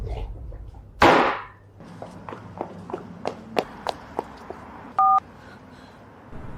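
A telephone number is dialed in a drama scene: a run of light, evenly spaced key taps, then a short, clear dial-tone beep near the end.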